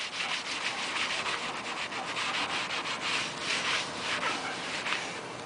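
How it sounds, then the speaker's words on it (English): Scrubbing pad rubbed briskly over a yellowed, hazy car headlight, a steady close-up abrasive swishing with rhythmic strokes throughout, loud and continuous with no talking. "So we want to scrub this really well."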